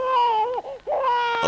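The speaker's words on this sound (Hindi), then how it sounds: "ओहो, यहाँ एक बच्चा रो रहा है।" An abandoned infant wails loudly and continuously, the cry dipping into a brief break before rising again, close and alone with no talking over it.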